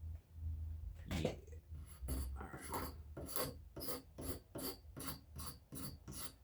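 Scraper rasping epoxy off the wooden stock of a Brown Bess musket, close rhythmic strokes that start uneven and settle into a quick regular series of scrapes.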